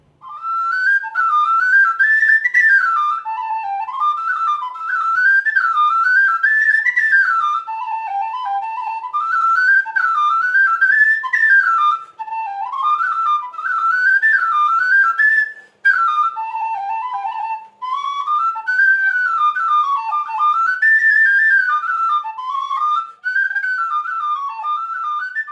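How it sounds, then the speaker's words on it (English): Tin whistle played solo in a shop setting, bright clear tones moving through a lilting Irish tune with short breaths between phrases, loud and close. "demonstrate some of the different whistles available"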